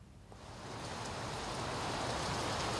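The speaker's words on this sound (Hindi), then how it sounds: "राजधानी भोपाल में इस वक्त जोरदार बारिश का दौर जारी है" Heavy monsoon rain pours down in Bhopal, a dense, steady broadband hiss that swells slightly after the first moment and then holds loud and constant, with no voices.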